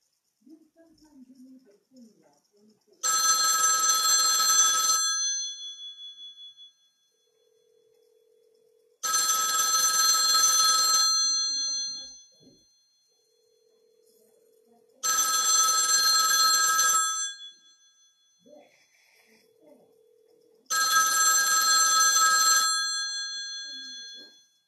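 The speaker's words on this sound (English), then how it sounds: "Graham, the phone's going to be ringing pretty soon because I'm going to call it" A 1951 rotary dial desk telephone's bell rings loudly in four long bursts, each about two seconds of harsh metallic jangling, separated by quiet pauses with faint low hum.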